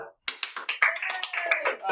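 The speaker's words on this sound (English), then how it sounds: "we need to clap" A high school class in a math test review session claps together, a burst of sharp, closely spaced hand claps starting after a brief silence and running on in a quick uneven rhythm, with some talk mixed in.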